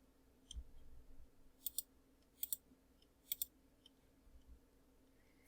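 Computer mouse clicking while a design is edited in Silhouette software: crisp paired double clicks at regular intervals, close and quiet against a faint background hum, with no talking.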